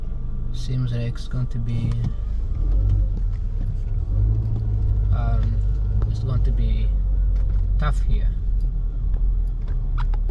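Street traffic in Washington DC near the Capitol: a steady low car rumble with passing vehicles and engine noise running throughout, close and continuous, with people talking over it.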